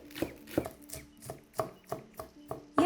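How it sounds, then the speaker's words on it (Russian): A knife finely chopping onion on a board, about nine crisp evenly spaced cuts heard close and alone, with a slightly heavier final stroke. "Мелко нарезаю лук"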